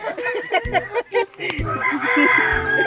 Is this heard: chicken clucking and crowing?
yes